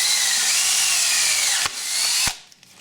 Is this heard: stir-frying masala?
no